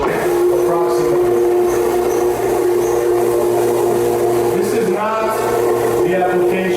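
A floor buffer machine spreads oil across a wood floor with a loud, steady motor drone and whining hum that hardly changes. A voice speaks over the machine noise.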